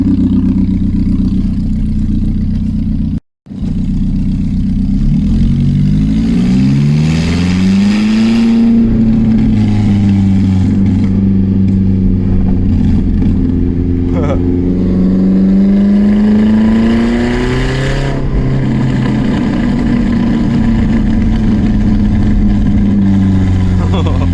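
A car engine with no catalytic converter revs up and down close by, its pitch rising and falling in swells with a raspy, loud exhaust tone and a brief cut early on.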